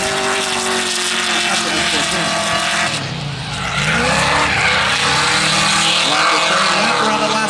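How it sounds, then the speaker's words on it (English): A Nissan S13.5 drift car is driven hard around a track during qualifying, its engine screaming at high revs while tires squeal in a long skid. An announcer talks over the loud, continuous roar. "Wild Bill Sherman driving in here."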